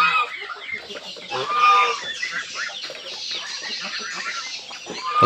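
Bangkok game chickens cluck and squawk in a busy, overlapping chorus, with birds calling close by and others farther off, dense and continuous throughout.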